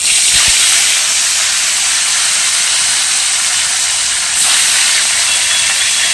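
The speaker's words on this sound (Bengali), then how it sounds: "মাছটা একদম আস্তে করে দিয়েছি তেলটা হালকা হালকা গরম হয়েছে" Koi fish frying in barely warm oil for Bengali tel koi, a loud, steady, hissing roar that fills the whole stretch with no pauses and no voices.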